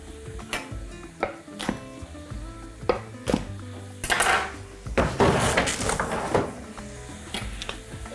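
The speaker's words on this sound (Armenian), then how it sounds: "Կտրատում ենք մանր։" Finely chopping a red chili pepper and a jalapeño for borscht, with sharp, repeated knife taps on a board in an uneven rhythm, close and clear, alongside clattering kitchen noise.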